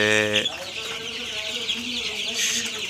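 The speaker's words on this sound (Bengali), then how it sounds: "এই তো দেখতে পাচ্ছেন আমার কালার বার্ড মুরগির বাচ্চা।" Coloured-breed broiler chicks about sixteen days old chirp and cluck at close range, a steady busy flock sound running through the whole stretch with no voices.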